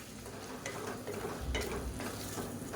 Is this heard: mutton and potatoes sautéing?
yes